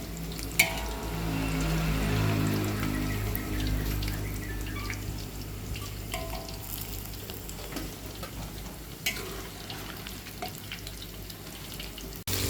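Crisp golden fried potato pieces are lifted out of hot cooking oil in a wok to drain, with a soft sizzle and trickle of oil that fades gradually, plus a few light clinks of the utensil against the pan.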